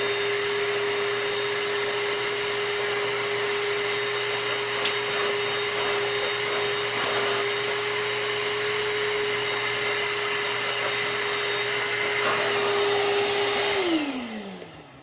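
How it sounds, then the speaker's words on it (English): A small vacuum, like a shop vac, cleans out the sponge filter of an HRV unit with a steady, loud, even drone. It winds down and cuts off near the end. "vacuum it out like that"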